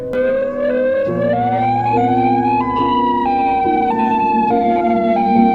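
A Modulator siren produces a loud, warbling tone that steps up and down in pitch in a repeating pattern roughly every second, continuous and alone with no voices.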